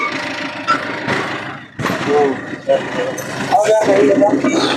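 A Tata Zest diesel car idles in a mechanic's workshop with a low, steady engine hum. People talk loudly over it the whole time.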